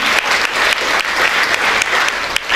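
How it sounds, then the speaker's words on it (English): Thunderous applause from a large audience at an awards ceremony, a dense, loud, continuous wall of clapping that holds steady throughout with no speech. "Let's have a thunderous round of applause for ma'am"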